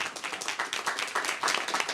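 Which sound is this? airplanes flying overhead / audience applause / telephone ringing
audience applause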